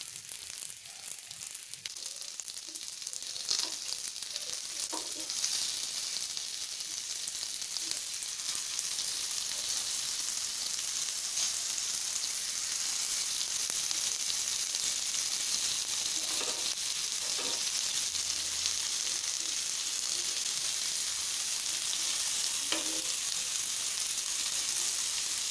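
Fish pan frying over a low flame, a constant bright sizzle that builds slightly and holds steady, with occasional soft clicks of handling and no talking.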